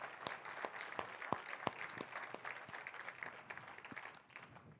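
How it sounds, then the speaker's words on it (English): Audience applause after a Kubernetes security talk at a conference, a fairly faint, thin round of scattered hand claps from a modest crowd, steady for about five seconds with sharper individual claps standing out. "let's give Matt a round of applause."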